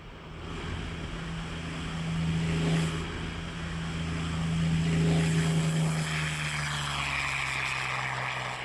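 A Yak-3 propeller-driven fighter aircraft's engine drones steadily, swelling louder and fading slightly as it passes, heard at a distance over broad wind-like noise with no talking.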